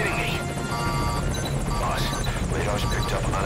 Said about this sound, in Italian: E l'elicottero dovrebbe essere proprio arrivato in questo momento.